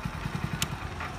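A motorcycle engine putters along during a ride to college on a road, with a quiet, rapid, even pulse and a short clatter midway.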